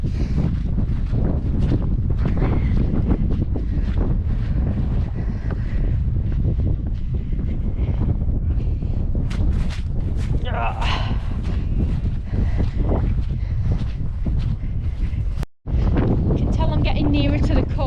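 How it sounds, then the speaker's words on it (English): Strong wind on the Cumbria coast buffeting the microphone in a loud, continuous roar, with a voice speaking intermittently beneath the gusts during a run along the coastal path. "that wind has just got up"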